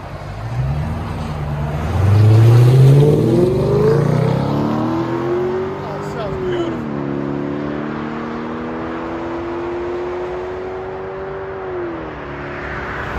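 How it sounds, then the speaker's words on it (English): A Lexus LS460 with a 4.6L V8, factory converters, factory X-pipe and Dynomax race bullet mufflers revs up to a loud, raspy peak, drops, then climbs again into a long held high-rpm roar before settling, close and with no talk. "Nothing beats that Lexus LS460. Factory converters, factory X-Pipe, DYNOMAX race bullets."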